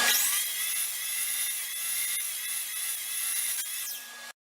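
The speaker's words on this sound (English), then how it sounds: "I'm going to run this miter saw with dust collection." A miter saw slicing through wood with dust collection running, a loud, steady high-pitched whine and cutting roar held for about four seconds before stopping abruptly.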